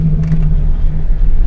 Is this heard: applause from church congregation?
no